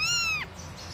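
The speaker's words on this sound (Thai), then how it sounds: "เดี๋ยวจะมาเบิ่งว่าแมวน้องออนจะโตแค่ไหน" A kitten gives one clear, close meow that slides downward and fades within half a second, followed by near silence.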